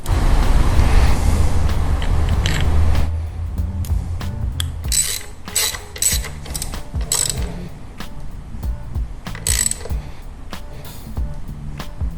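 A ratchet wrench tightens spools onto a motorcycle frame slider with rapid clicking pawl strokes. The clicks come in short repeated bursts after a stretch of low mechanical rumble, close and moderately loud.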